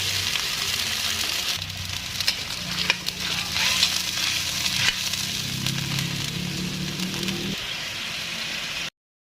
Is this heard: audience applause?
no